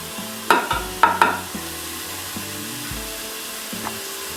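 Lardons fry in a Moulinex Cookeo multicooker pot for pasta carbonara, a soft sizzle under a few sharp utensil clacks early on, with steady tonal humming running throughout.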